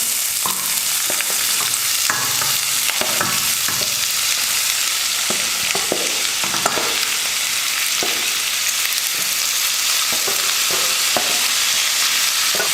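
Onion, tomato, curry leaves and egg frying together in oil in a pan, a steady crackling sizzle broken by repeated scraping and stirring knocks, close and continuous.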